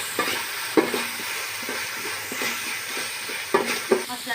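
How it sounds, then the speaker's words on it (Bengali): Homemade biryani spice masala of bay leaf, cumin, chili and cardamom fries in oil in a pan, giving a steady close sizzle. A few sharp stirring clacks break through it, with no voices. "মশলাটা ভাজা হয়ে গেছে"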